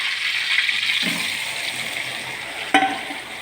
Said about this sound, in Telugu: ఇప్పుడు నూనె కాగింది, దానిలో ఈ రొయ్యలు వేసేస్తున్నాను